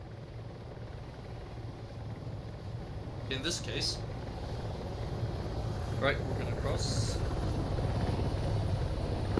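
In a military simulation video game, a helicopter makes a steady rotor drone that grows slightly louder through the clip. Players talk over it.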